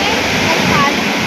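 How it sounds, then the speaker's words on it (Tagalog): Strong sea waves at Sabang, Palawan give a loud, continuous broadband rush of churning surf that fills the whole short moment without a break. "Lakas na alon, no?"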